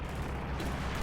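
Su-76 self-propelled gun fire in the World War II strategy game Company of Heroes 2, a continuous dense rumble of distant artillery bursts and battlefield noise, steady and loud throughout.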